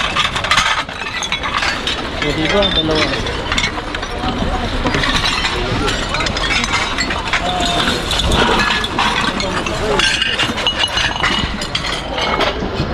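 Broken plates and glass pulled from a dumpster clink and rattle over a dense bed of handling noise, with people talking throughout.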